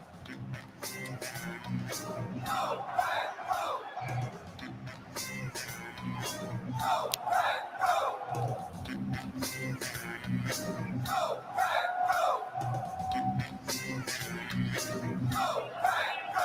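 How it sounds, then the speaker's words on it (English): Large NFL Draft crowd in Green Bay roaring and yelling continuously, a dense sustained cheer with swelling shouts and whoops throughout. "Listen to this crowd."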